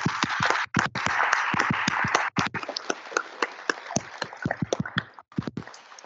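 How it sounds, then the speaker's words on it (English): Staff at a City of West Des Moines years-of-service event give everybody a round of applause: dense, steady crowd clapping that thins into scattered claps toward the end. "Yes, give everybody a round of applause."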